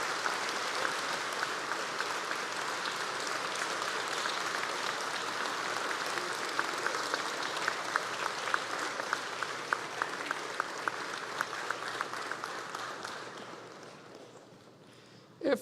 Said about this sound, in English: I'd like you to give him a round of applause in thanks for his service to the